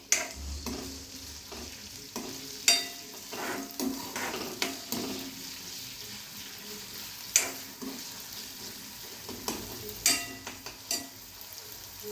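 Crushed chili and garlic frying in a pan for bharangi greens, a soft continuous sizzle broken by sharp metal stirring scrapes and clinks at uneven intervals, close by and without speech.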